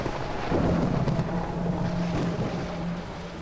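Thunder rumbles as a storm breaks in an audio drama, a sustained low roll with windy, rain-like noise across several seconds and no speech.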